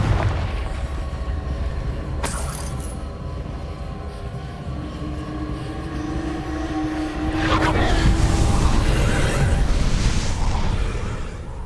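Confringo blasting spell explosions in the video game Hogwarts Legacy: two sharp, loud bursts, the second heavier, each followed by a rumbling roar over a steady low background drone in a ruined location.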